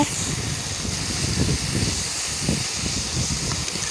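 Potatoes fry in a pan as they are stirred, giving a steady, even hiss of sizzling oil with faint scraping underneath.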